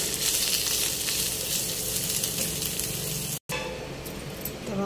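Raisins and coconut pieces sizzle steadily in hot oil, a dense continuous frying hiss with a brief cut near the end, no talk.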